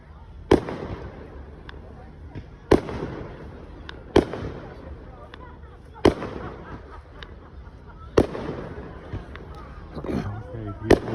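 Fireworks at the Seaway festival in Ogdensburg, New York burst in a steady series of sharp booming reports a couple of seconds apart, with crackling between them and spectators talking throughout.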